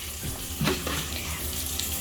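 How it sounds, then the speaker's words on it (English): Steady rushing, bubbling water fills the clip with a constant hiss and a small surge partway through. "Boiling water."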